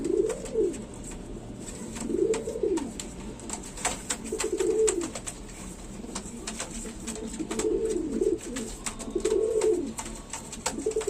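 A pair of Sirazi pigeons coo in repeated soft, rolling phrases every couple of seconds, close by, with light clicks and shuffling around them.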